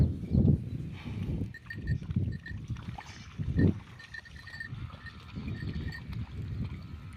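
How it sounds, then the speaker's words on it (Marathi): A buffalo rolling and splashing in open river water, heavy low sloshing surges recurring irregularly at close range, with faint background sounds. "असे लोळायला लागली पाण्यामध्ये"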